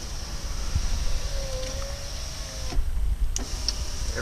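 Electric power window motor on a Mercedes E320 runs with a steady whine for nearly three seconds before cutting off, followed by a few faint clicks, heard close up with no talking.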